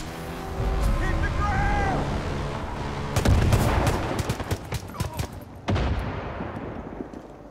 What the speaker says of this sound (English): Pipe bomb.